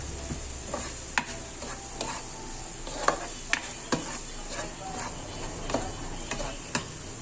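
Butter cooks in a pan with mushroom for fried rice, a quiet steady sizzle broken by sharp utensil taps and scrapes against the pan at irregular intervals.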